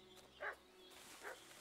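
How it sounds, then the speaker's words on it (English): Two separate dog barks, one around the middle and a slightly softer one near the end, over a steady background ambience in the medieval video game Kingdom Come Deliverance II. "What's that dog making such a fuss about?"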